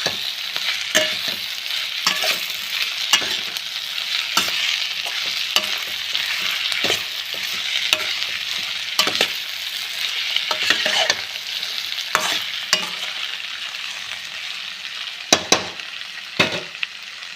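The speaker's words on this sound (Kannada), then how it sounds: "ಕಾಯಿ ತುರಿನ ಹಾಕ್ಬಿಟ್ಟು ಮಿಕ್ಸ್ ಮಾಡಿ" Ivy gourd stir-fry with grated coconut being stirred in a pan, a steady sizzle broken by repeated sharp scrapes of the spatula at an uneven rhythm, close and moderately loud with no talk.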